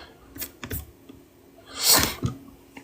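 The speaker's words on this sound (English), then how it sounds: "I'm tired of typing." Clicks and taps on a computer keyboard, a few scattered keystrokes followed by a louder cluster, close and alone with no voices.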